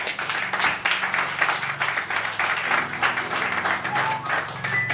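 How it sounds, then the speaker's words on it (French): An audience at a speech applauds in a sustained, dense round of clapping that holds steady for several seconds at moderate distance. "Je vous prie encore d'applaudir cet axe."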